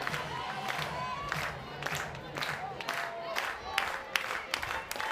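A college softball stadium crowd at an Arkansas versus Mississippi State game, cheering and shouting in waves from a distance while commentators talk over it.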